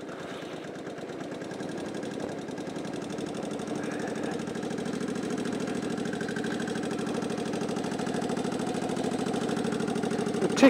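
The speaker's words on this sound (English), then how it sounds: "Tick over is a little bit higher than I would have expected." A 2000 Kawasaki VN15 motorcycle with a rusty finish idles at a slightly high tick over, a steady close-up engine rumble that runs unbroken and slowly grows a little louder, with no voices.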